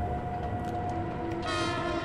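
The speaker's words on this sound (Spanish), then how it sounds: "Hay una tecla para tocar la bocina." A train horn in Trainz Railroad Simulator sounds as a steady sustained tone over continuous low rumbling rail noise, with a brighter, louder blast rising near the end; no speech.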